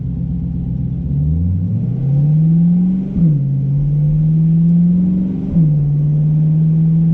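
Chevrolet C8 Corvette fitted with a Borla ATAK exhaust pulls away and shifts gears, its deep exhaust note rising in pitch, dropping at each of two upshifts around three and five and a half seconds, then holding a steady drone.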